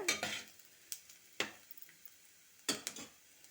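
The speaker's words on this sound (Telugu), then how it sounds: "ఇలా వేయించుకోవాలండి చూడండి ఇలా వేగినాయి కదా" Ingredients frying in a pan for sweet corn carrot rice, a faint sizzle broken by several sharp scraping stirs and taps of a spatula, quiet and close.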